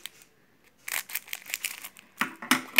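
Scissors snip and slice through the foil wrapper of a Panini Adrenalyn XL 2018/2019 football card pack, a few crisp crinkling cuts after a brief pause, close and fairly loud with no talk.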